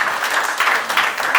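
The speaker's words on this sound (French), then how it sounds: "Continuons à applaudir" An audience at a Radio Maria charity trophy ceremony keeps up steady, dense applause, a continuous wash of many hands clapping with no break.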